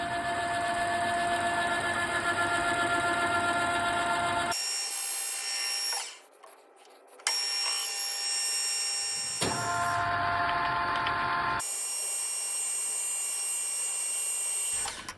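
Metal lathe running a cut toward the tailstock, a loud steady whine with tonal machine hum that stops briefly and resumes several times, no talking.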